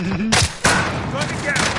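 Two sharp gunfire blasts ring out in a Warzone match, the second cutting off a quieter stretch, with voices and game chatter running beneath.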